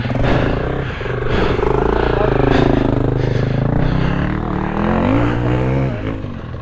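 An enduro motorcycle rides a rough trail in the Yorkshire Dales, its engine droning and rising in pitch as it labours over the ground, loud and steady with clattering from the terrain.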